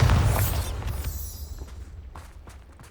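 A Bombarda spell blast in Hogwarts Legacy: one loud, deep boom at the start that decays into a rumbling tail, with a few faint clicks and shuffles after, and no voices.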